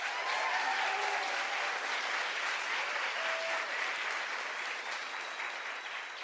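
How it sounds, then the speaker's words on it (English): A crowd at an arts advocacy event applauds, sustained even clapping that starts strong and slowly thins over several seconds, with a few faint voices underneath. "Let's give a round of applause for them."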